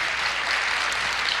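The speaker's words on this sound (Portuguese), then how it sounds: "Pode aplaudir o Senhor." A church congregation applauding, a short burst of steady, dense clapping heard alone at moderate volume.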